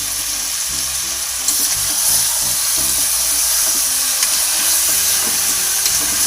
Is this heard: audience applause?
no